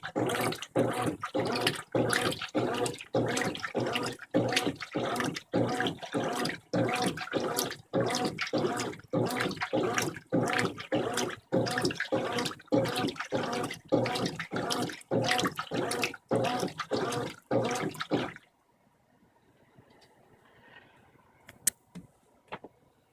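A Brastemp 15 kg washing machine rinses a mixed load of jeans, towels and clothes, giving a steady pulsing churn of water and agitation in regular bursts that stops abruptly near the end, leaving quiet with a few faint clicks.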